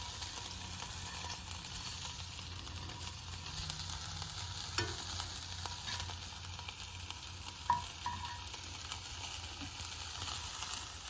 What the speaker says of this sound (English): with this spatula, we're going to flip the ham so that way it gets nice browning on both sides